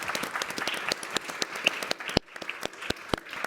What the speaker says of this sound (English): So perhaps we could give the Economist a round of applause